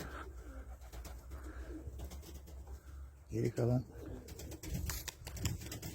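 Pigeons coo softly in a low, throaty rumble while someone talks over steady outdoor background noise.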